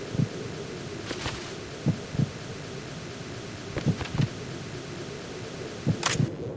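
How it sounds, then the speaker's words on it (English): Heartbeats picked up through a directional microphone in Metal Gear Solid 2, heard as faint, muffled paired thumps repeating about every two seconds over a low hum, with a few brief sharp clicks. "Now we can only hear heartbeats"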